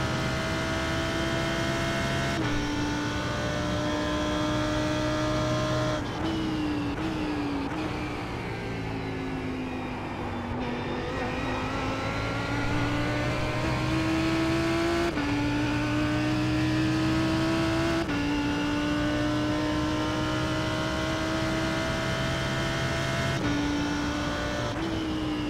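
A Lamborghini race car engine in an IMSA racing game drones steadily at high revs, its pitch falling and climbing with each gear change and corner, continuous and loud under faint background noise.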